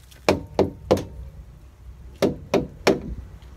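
A truck tyre is struck to check its pressure, giving six dull, thudding knocks in two groups of three, each evenly spaced and close, with a short pause between the groups.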